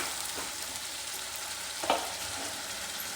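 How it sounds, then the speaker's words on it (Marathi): Sliced onions sizzle in a pan for a restaurant-style dal and onion dish, a soft, steady frying hiss with a few light stirring scrapes, one louder clack near the end. "चांगला फ्राय होऊन जायचं तर कांद्यामध्ये ना आपण थोडंसं ना मीठ घालून घेणार आहे"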